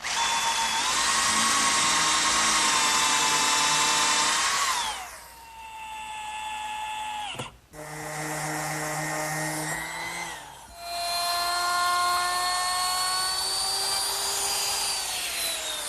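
A power drill boring a 15-degree pocket hole in a wooden cabinet door whines loudly, its pitch sagging as it bites in, then stops briefly and spins up again twice, close by.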